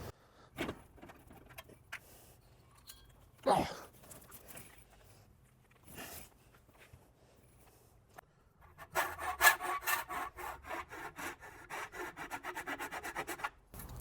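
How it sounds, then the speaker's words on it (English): Hand file rasping back and forth to widen oval mounting holes in an aluminum radiator for a 1960 Chevy Biscayne with an LS swap; scattered scrapes and knocks give way to a steady, rapid run of filing strokes near the end, close and moderately loud. "we're going to file those holes because otherwise we can't install this"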